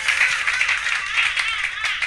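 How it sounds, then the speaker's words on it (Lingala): A church congregation applauds for the glory of God, a dense, steady wash of many hands clapping together at moderate distance, filling the whole moment without pause or voices. "Est-ce que tu peux encore acclamer pour la gloire de notre Dieu?"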